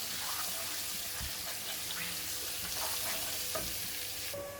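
Ginger sizzles in hot oil while an undhiyo is being prepared. There is a steady crackling fry with occasional stirring scrapes, and no voices.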